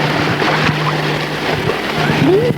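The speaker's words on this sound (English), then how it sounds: "Here comes the waves." Ocean waves wash and rush steadily at the shore in a broad, continuous roar, close and fairly loud, with a low steady hum beneath and a brief rising whistle-like tone near the end.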